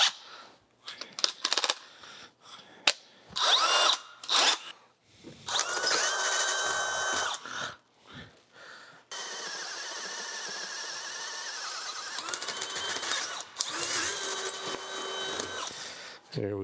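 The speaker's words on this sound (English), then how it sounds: "We'll swap out drill bits." Clanks and handling noises give way to a Lucas horizontal boring mill drilling a 31/64-inch hole through metal, a sustained whine with shifting pitch that runs for several seconds.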